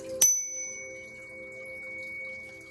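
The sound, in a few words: bell being rung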